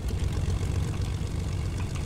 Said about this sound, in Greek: Και πάμε στο κύκλο με το αεροπλάνο.